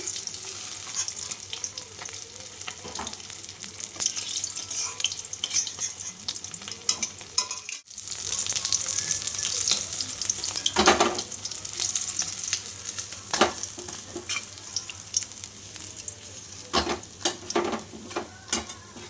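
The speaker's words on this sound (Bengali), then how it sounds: "আমি এবার মাছগুলো নিয়ে দিচ্ছি মাছগুলোকে ভেজে নেবো আগে" Steady oil sizzle of katla fish frying in a pan, with a brief drop near the middle and occasional sharper crackles and spatters, no voices.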